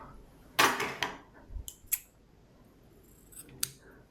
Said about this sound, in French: je vais sortir le fil du chariot et on va couper 3 fois la largeur du tricot